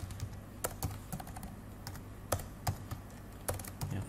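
Quick keystrokes on a computer keyboard, including a Ctrl+D shortcut, come as sharp irregular clicks in short bursts at close range in a quiet room.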